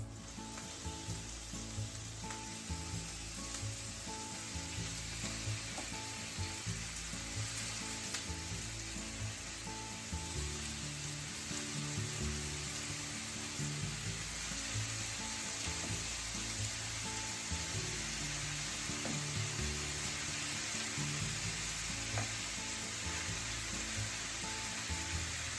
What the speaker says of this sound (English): Don't touch and just let it cook to get nice brown at the bottom.